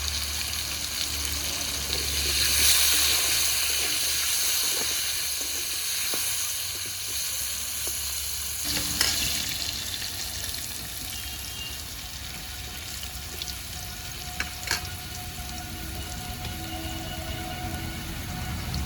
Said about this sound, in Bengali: আলুগুলো লাল লাল করে ভেজে নিয়েছি